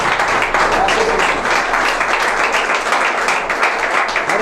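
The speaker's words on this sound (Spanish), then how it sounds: "Denle un aplauso al Señor" A church congregation applauds together during a Spanish-language service, a steady dense wash of clapping that holds level and close throughout, with some voices mixed in.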